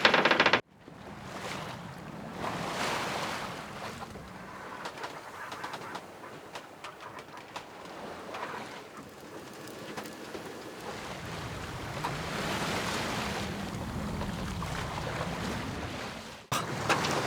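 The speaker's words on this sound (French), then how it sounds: "Il y a 9 nœuds de vent." Wind and water rushing past a sailing boat under sail in about 9 knots of wind, a continuous swelling wash with occasional creaks and thumps, no talking.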